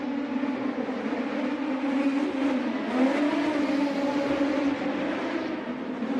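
A sprint car circles the dirt track during the Chili Bowl Nationals pole shuffle, a distant, steady engine whine rising and falling slightly in pitch as it laps, heard fairly faintly and without talk.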